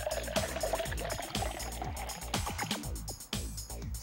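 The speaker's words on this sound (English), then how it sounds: "Pour about a cup of water into your container" About a cup of water poured into a glass or plastic container, a soft trickling pour running under steady, pulsing background music.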